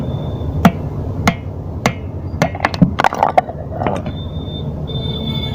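Light metallic punch taps ring out in a slow series, then a quicker cluster, as a clutch cup is knocked out of a Bajaj two-stroke five-port engine, close by and without talk.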